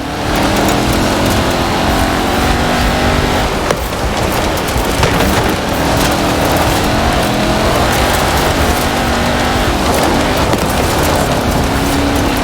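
A Land Rover Type 3 all-terrain supercar driving, its engine a loud, steady, close roar that carries on without a break.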